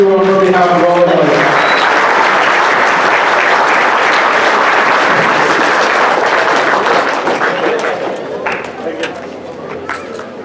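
An audience at a Shahid Afridi event in Surrey breaks into loud, sustained applause right after a brief spoken line, the clapping holding steady and then slowly thinning out.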